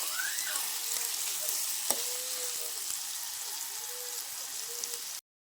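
Onion and garlic sautéing in a pan, a steady close sizzle and hiss of frying with faint stirring clinks, no talk over it.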